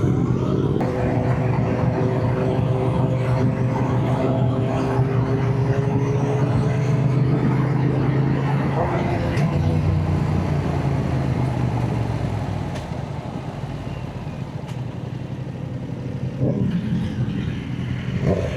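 A Yamaha R7 motorcycle on the move, its engine droning steadily with rising and falling revs and rushing wind noise, close and continuous, easing slightly near the end.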